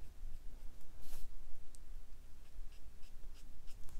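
Copic marker strokes rubbing and squeaking across drawing paper while coloring boots, soft intermittent scratches and brief higher swipes, close and quiet, no talking.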